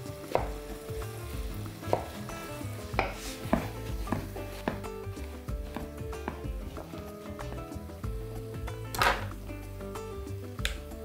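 A zucchini is sliced on a board with a knife, giving a series of distinct close chops at an uneven rhythm over a soft background of faint kitchen noise.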